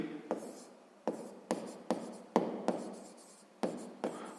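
Pen or pencil writing a math solution by hand on paper: close, quiet scratching strokes with sharp taps at each new stroke, roughly two per second, heard alone without talk.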